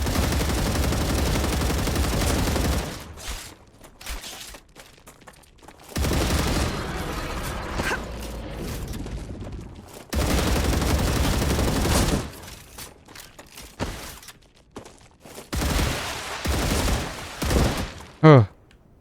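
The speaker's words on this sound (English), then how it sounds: "Let's just mag dump his legs." Sustained automatic gunfire empties a magazine into a creature's legs in the video game Star Rupture, loud bursts running in several long stretches with brief gaps between them and a few voices speaking over the quieter moments.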